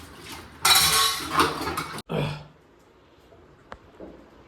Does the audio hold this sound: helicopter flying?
no